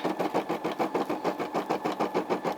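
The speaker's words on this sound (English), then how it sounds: "just stitching out the outside part of the ice" A Brother SE600 embroidery machine stitching an Easter bunny design, a steady rapid mechanical chatter with an even pulsing rhythm, loud and close, running alone.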